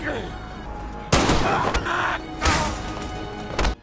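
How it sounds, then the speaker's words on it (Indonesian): Gunfire from a prison escape film scene as a warden shoots at random in the dark: several loud, sharp bursts of shots with crashing impacts, separated by brief lulls. "Pengawas John menembak sembarangan."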